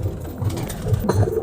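Pigeons being moved into a new enclosure coo softly in a low, repeated burbling rhythm, close by and steady, with no talking over them.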